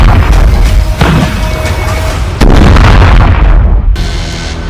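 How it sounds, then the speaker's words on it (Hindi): Artillery shells explode in the Russia-Ukraine war, heavy booms and rumbling blasts running loud and continuous, with sharp bursts at several points. "तोपखानों के आग उगलते गोलों से भारी तबाही हो रही है।"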